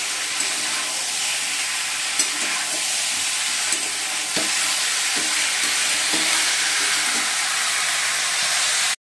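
A cauliflower, potato and paneer curry sizzles steadily in a pan while a utensil stirs and scrapes through it, giving a constant close bubbling hiss with soft irregular knocks.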